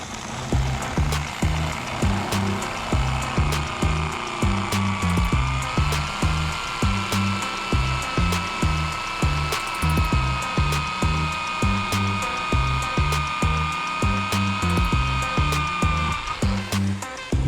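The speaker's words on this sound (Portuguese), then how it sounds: "Vou furar com essa broca a fibra." A power drill with a thick half-inch bit bores into fiberglass while mounting solar panels, a steady high whine running continuously for the whole stretch, with a rhythmic low knocking underneath.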